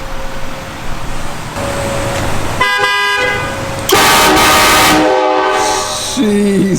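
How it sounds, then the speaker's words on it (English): A large train horn system mounted on a pickup truck blasts in loud, close tonal bursts, with short gaps and a final harsh blast, loud enough to dominate everything. "we're gonna get a taste of that enormous train horn system"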